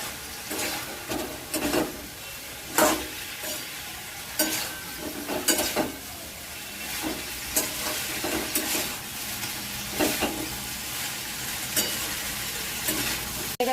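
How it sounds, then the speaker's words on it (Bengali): Cauliflower and potatoes being stirred and sautéed in a pan for a vegetarian curry, giving a steady low sizzle broken by repeated scraping strokes of the spoon, close and moderately loud with no talk. "এবার আমি কপি, ফুলকপি, আলু সব দিয়ে একটু ভালো করে কষিয়ে নেব।"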